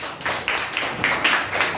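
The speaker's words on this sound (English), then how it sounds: "Everyone clap for Dhruv." Schoolchildren clap together in a classroom at Divine Life School, Vasna, a brisk burst of many hands beating in loose rhythm, close and fairly loud.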